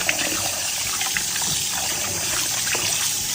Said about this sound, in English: let's clean the pork. Just like the shrimp, rinse it out at least 3 times